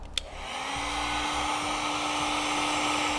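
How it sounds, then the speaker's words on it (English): A heat gun shrinks wire connectors while wiring a towed-vehicle tail light kit, switching on with a click and then blowing a steady, loud, close airy whoosh with a whining tone. "Then we'll use our heat gun to shrink down our connectors."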